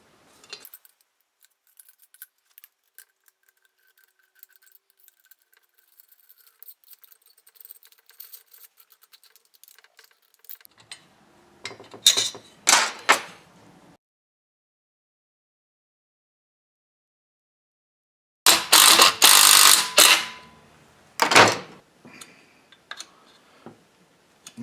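Metal parts of a Husqvarna 390xp chainsaw clink and clatter as the muffler is fitted, with faint scattered ticks and then a few short, louder bursts of close metallic rattling.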